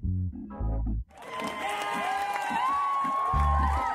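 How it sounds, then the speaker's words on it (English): A crowd claps and cheers with whoops, the noise swelling after a brief opening of low tonal sounds and continuing at a steady, fairly loud level. "let's give a loud round of applause to my secret lover."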